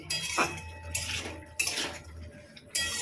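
Green chillies, chilli powder and raw mustard oil being stirred in a metal dish, with several short scraping and clinking bursts of utensil against the bowl at close range and quiet pauses between them.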